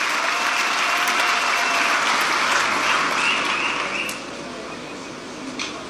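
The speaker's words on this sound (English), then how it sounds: "you can applaud yourself" A crowd at a G20 summit applauding steadily, dense and continuous clapping that fills the space, then easing off slightly toward the end.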